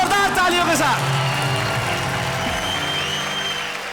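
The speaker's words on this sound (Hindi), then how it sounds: "जोरदार तालियों के साथ" A television show audience breaks into loud applause with some cheering for a guest, filling the space while music and voices carry on underneath.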